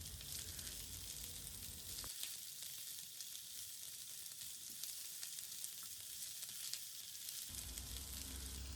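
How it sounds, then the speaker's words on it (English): Steamed vegetables sautéing with garlic in a pan, a soft continuous hiss of frying that stays low and even throughout, faint and close with no one speaking. "We'll saute them for a while along with the garlic."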